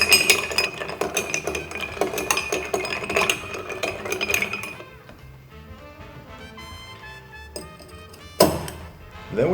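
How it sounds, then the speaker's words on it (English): Ice clinks and taps against a cocktail shaker as a Charlie cocktail with Charleston Follies is stirred, bright repeated clinks over background music that thin out, then a sharp clatter near the end. "And then we stir it."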